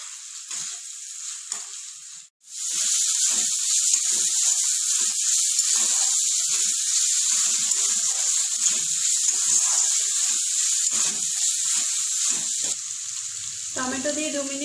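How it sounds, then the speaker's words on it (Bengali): Spice paste with chopped tomato sizzles loudly and steadily in a pan for a vegetarian potato curry, a dense continuous hiss broken by a brief pause and light stirring scrapes, with no talking. "টমেটো দিয়ে আরো 2 মিনিট মতন মশলাটা কষিয়ে নেব।"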